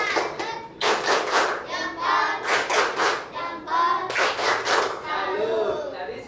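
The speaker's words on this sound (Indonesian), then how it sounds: "berikan tepuk tangan untuk Rehan" A classroom of students claps for a classmate in quick rhythmic bursts, the patterned claps alternating with children's voices chanting along, fairly close.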